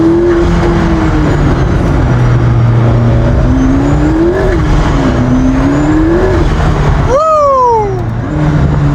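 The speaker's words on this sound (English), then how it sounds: "Ooh, that iconic blow-off valve sound. It sounds like a Fast and the Furious car" A McLaren P1 hypercar driving loudly with its engine droning and shifting pitch, then a sharp descending whoosh and flutter of the turbo blow-off valve near the end.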